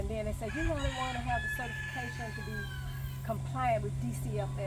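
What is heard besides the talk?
roosters crowing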